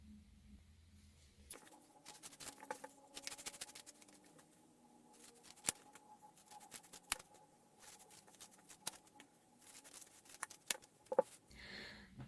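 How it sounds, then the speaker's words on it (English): Scissors cut out a piece of stiff felt, giving faint, close, irregular snipping and crisp clicks scattered through a quiet room over a soft background hum, with no talk. "So we're going to cut out our piece of felt."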